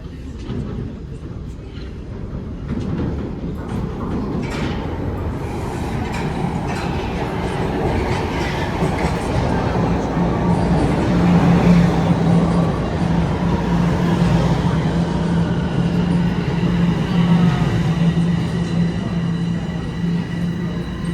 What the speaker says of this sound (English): we will wait here for the train to come